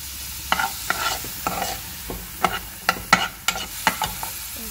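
Chopped mushrooms and peas being sautéed in a pan, a soft sizzle under repeated sharp scrapes and taps of a spoon stirring, about a dozen close strokes in an irregular rhythm.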